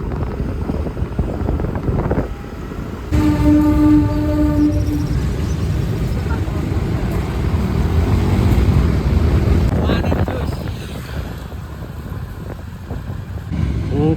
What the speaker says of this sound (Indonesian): Nah, sekarang 16 loko berada di atas jembatan.